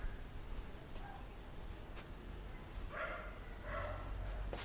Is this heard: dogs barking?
yes